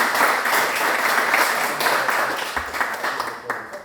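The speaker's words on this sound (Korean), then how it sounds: "박수 한번 쳐주세요." A football crowd of FC Anyang fans claps together in a loose, steady burst that thins out toward the end, with a low murmur beneath.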